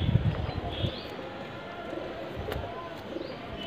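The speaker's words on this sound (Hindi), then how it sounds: "ये देखिए फ्रेंड्स कबूतरी है" Soft cooing of a female Rampuri pigeon sits in a hushed background of low rustling and ambient noise, with a faint voice nearby.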